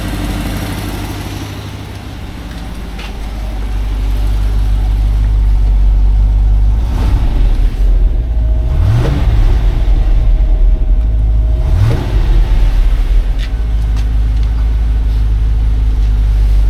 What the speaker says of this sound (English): Well, that engine runs sweet.